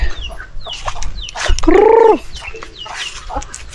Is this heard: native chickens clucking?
yes